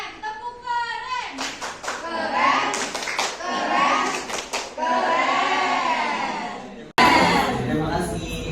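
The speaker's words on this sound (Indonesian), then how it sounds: "Mari kita kasih tepuk keren" Children clapping a rhythmic classroom 'tepuk keren' cheer, bursts of hand claps mixed with young voices chanting along, close and lively, with a brief break before a final loud round.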